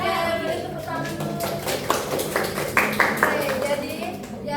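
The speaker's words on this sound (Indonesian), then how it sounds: "Oke, beri tepuk tangan dulu." Scattered clapping from a vocational school class during a microteaching session, light and uneven rather than a full ovation, with voices talking around it.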